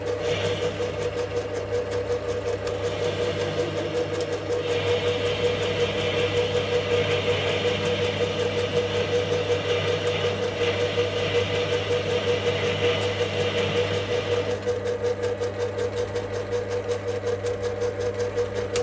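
A lathe machining new cast iron bushes for a Bantam runs with a steady mechanical hum and whine, a brighter cutting tone rising in the middle section, with no talk.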